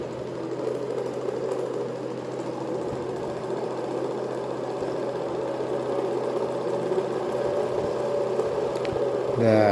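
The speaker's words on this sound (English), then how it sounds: "now I am going to start the motor" A small axial and radial BLDC motor with a radial stator and rotor runs at 12.5 volts, drawing 0.15 amps, giving a steady, even mechanical hum with a fine rattling texture that holds at constant level throughout, close by.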